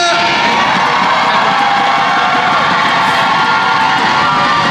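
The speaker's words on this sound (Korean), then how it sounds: "여러분 박수 부탁드립니다" A fan concert crowd for a K-pop group, during a badminton game on stage, cheers and claps in a loud, continuous wash of shouts and whoops that does not let up.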